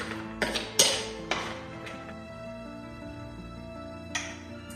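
Pecans and chocolate chips stirred together for a chocolate pecan pie filling, a few sharp clinks and scrapes of a utensil against a bowl near the start, then quieter mixing.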